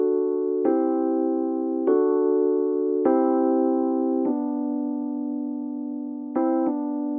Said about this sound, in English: It's a good sound, just a nice electric piano sound.